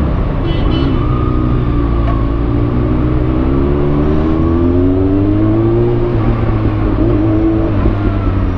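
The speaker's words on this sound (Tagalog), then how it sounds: "Ang traffic no?" Heavy road traffic outside the LTO Laloma branch: a steady, loud drone of car engines idling and creeping forward, with low rumbling and rising engine tones from vehicles close by.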